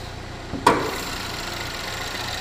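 A 2014 Chevy Equinox all-wheel drive with the 2.4 EcoTec engine idles steadily with a low, even hum, broken by one sharp click or thump early on.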